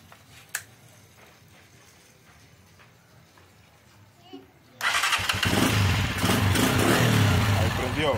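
An NKD motorcycle fitted with a new ignition coil is cranked after a quiet stretch with a couple of clicks, then fires up and settles into a loud, steady close idle that runs to the end.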